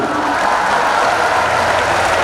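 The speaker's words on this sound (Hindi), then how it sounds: "तालियां धीरे धीरे आएंगी आपकी।" A comedy show audience applauds loudly and continuously, a dense, even wash of clapping from a crowd that holds steady from start to finish.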